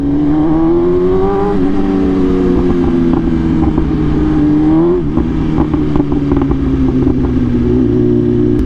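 A BMW S1000RR motorcycle fitted with a loud custom exhaust idles hard and revs up and down, a close, throaty engine drone with rising and falling pitch sustained throughout.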